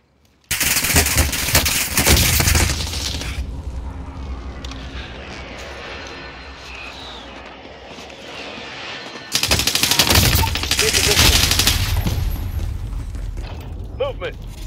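Loud, dense bursts of rapid video game gunfire in a first-person shooter, opening sharply, easing into a steady rumbling exchange, then surging again near the end, with voices heard under the shooting.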